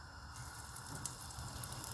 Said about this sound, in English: I'm frying these so they have a little extra flavor and crunch to them.